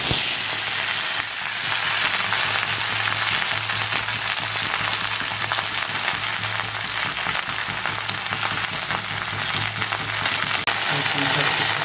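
Chopped Malabar spinach (pui shak) sizzles steadily in hot oil in a pan on a gas stove, a dense continuous frying hiss with faint occasional stirring, no voices.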